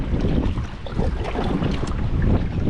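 Strong wind buffets the microphone on open water beside a small fishing boat near a creek mouth, with a constant roar and choppy waves lapping close by.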